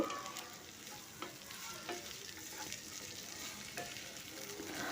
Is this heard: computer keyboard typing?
no